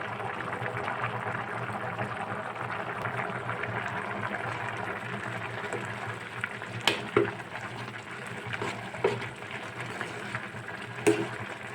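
Dried lotia shutki (Bombay duck) fish cooking in a pot, a steady bubbling and sizzling simmer broken by a few sharp clinks and scrapes of utensils toward the end, close and moderately loud.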